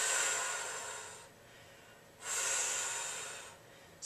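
Strong, forceful breaths during a yoga twist: two long, loud exhales whoosh close to the microphone with a pause between them, and a third breath begins at the end.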